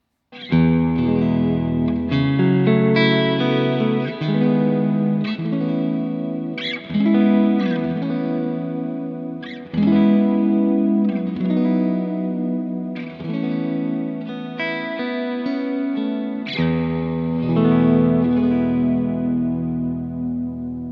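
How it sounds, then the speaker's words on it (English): Electric guitar played through a Valeton GP-5 multi-effects unit on its Sweet Space modulated reverb, sustained chords and arpeggios with shimmering, wavering tails washing together, loud and continuous with short breaks between phrases, no talking. "So that's a really nice modulated reverb."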